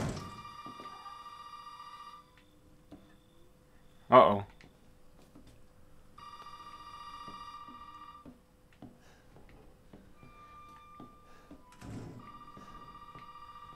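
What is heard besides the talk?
telephone ringing in video game Resident Evil 7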